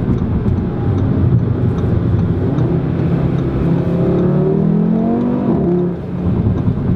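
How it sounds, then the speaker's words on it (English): An Audi RS3 sedan engine accelerates loudly up close, its pitch climbing steadily through the gears with a rising, sustained roar. "Don't ever estimate the sound of the car, because it really transfers the experience for you."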